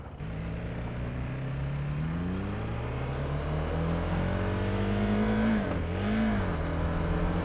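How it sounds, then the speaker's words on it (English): A KTM 390 Adventure single-cylinder motorcycle engine revving steadily while riding, a loud, continuous thumping drone that rises and dips in pitch, close and without talk. "All right, thumper sounds good"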